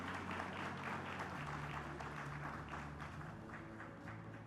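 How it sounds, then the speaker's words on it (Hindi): An audience at the IBC24 Swarna Sharda Scholarship event applauds as a sports and youth welfare minister is welcomed, a steady, faint wash of many hands clapping over a low hum. "जोरदार तालियां हो जाएं"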